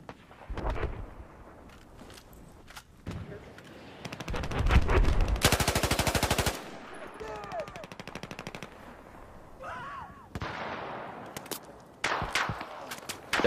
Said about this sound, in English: I'm taking fire right now from Bravo.